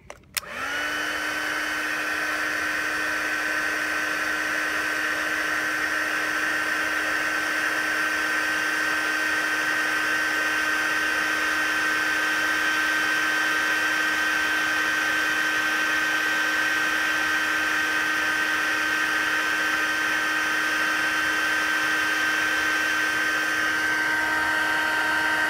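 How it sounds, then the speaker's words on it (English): An embossing heat tool melting embossing powder starts with a click, then blows a loud, steady whirring hum without a break. "Add some embossing powder. Bring our heat tool back in."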